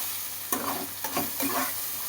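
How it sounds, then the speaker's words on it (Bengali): Vegetables and peanuts sizzle in a hot pan under a steady frying hiss, broken by three close, brisk scrapes and clacks of stirring. "সবজিগুলোর সাথে ভেজে নিচ্ছি।"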